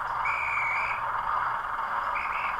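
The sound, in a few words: model railway sound effect of guard's whistle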